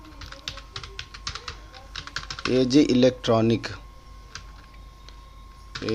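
Rapid clicking keystrokes on a computer keyboard as a company name is entered in Excel billing software, with a voice briefly speaking in the middle over the typing.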